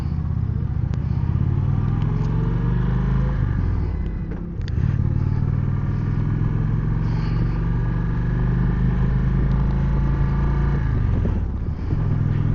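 An Indian Springfield motorcycle with a Thunderstroke engine cruises on the road, its engine droning loud and steady with two brief dips as the rider shifts, under heavy wind rumble.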